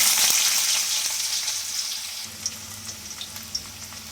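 Diced potatoes go into a frying pan of hot oil tempered with black cumin, raising a loud, steady sizzle that settles down, with a few light stirring clicks near the end.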